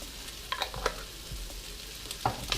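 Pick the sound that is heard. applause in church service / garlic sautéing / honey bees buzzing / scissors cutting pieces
garlic sautéing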